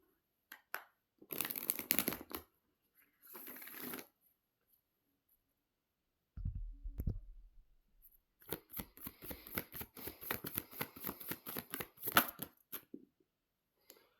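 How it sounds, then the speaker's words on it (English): Moonology oracle cards being shuffled by hand in a quiet room: short papery riffles and flicks come in bursts, ending in a longer run of quick card-snapping shuffles, close and soft. "Let's pull a Moonology card for this message."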